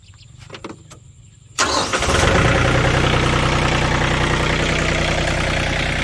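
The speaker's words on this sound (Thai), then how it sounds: "ครับเครื่องติดง่ายครับ สตาร์ทเดียวติดตึมเลยครับผม" A Yanmar 39 hp tractor engine cranks and catches on the first try, then settles into a loud, steady diesel idle that runs on without a break, with no talking over it.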